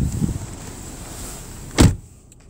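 An all-wheel-drive car's power window motor whirs steadily at close range, ending in a short thump as the glass seats, then quiet.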